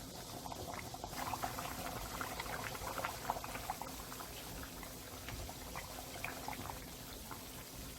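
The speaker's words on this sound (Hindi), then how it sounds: "अब तकरीबन जो बोटियां हैं वो काफ़ी हद तक फ्राई हो गई हैं और गल भी गई हैं" Meat pieces fry in oil in a karahi for Peshawari charsi karahi, giving a soft, continuous bubbling sizzle with small crackles, fairly faint and steady throughout.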